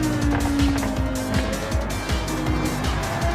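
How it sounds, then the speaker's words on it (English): A racing car's engine roars loudly and close by, its pitch climbing and dropping through repeated revving surges, with a touch of tire squeal. "You will hear this car seconds before you ever see it."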